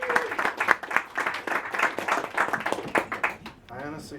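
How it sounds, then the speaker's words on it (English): Audience applauding for a performer at a comedy show, a dense burst of steady clapping that carries on throughout before thinning out near the end, with a voice briefly audible. "how about another round of applause for Neil Kelly?"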